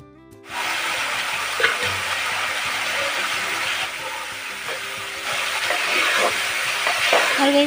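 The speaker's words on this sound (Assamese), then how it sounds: "এতিয়া সৰু আলুখিনি ভাজি লওঁ" Small potatoes frying in hot oil for khichdi give a steady, close sizzle that starts suddenly and holds evenly for several seconds, with faint clinks and stirring noises beneath.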